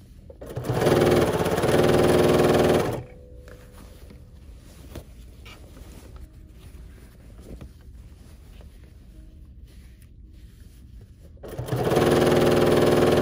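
A BERNINA sewing machine fitted with binding foot #71 stitches a quilt binding in two loud, steady bursts, one near the start and one at the end, with a long quiet stretch of faint handling between them.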